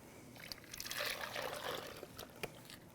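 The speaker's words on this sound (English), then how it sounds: "So once we've got most of our milk mixture in our slurry, we're ready to move it back all onto the pot." Milk mixture and cornstarch slurry for banana pudding pour steadily into a pot, a close liquid stream with light splashing and trickling.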